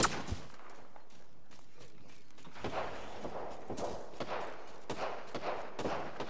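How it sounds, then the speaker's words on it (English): Gunfire in a shooter video game: scattered bursts of shots at moderate loudness, some sharp single cracks and clustered volleys over several seconds, with no talking. "The enemies are shooting at me."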